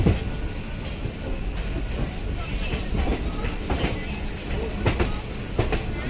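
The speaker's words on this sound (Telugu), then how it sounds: "ఇదేమో ఎక్స్ప్రెస్ ట్రైన్ లైన్ అన్నమాట." The Pinakini Express, an intercity train running from Vijayawada, rumbles past on the express line with a steady loud roar and rhythmic clatter of wheels, close by, with faint occasional squeals and no clear talking.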